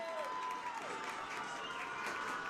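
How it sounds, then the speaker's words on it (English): Knights football fans in the stands cheer for their defense at a Le Roy vs. Attica high school game, a steady, fairly distant roar of shouts and whoops with a few whistles held throughout. "Let's cheer them on."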